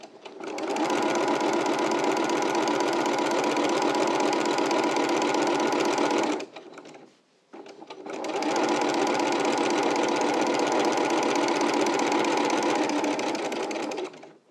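Sewing machine running a long steady seam loud and close, easing off and pausing briefly at a corner before pivoting and speeding back up to full pace.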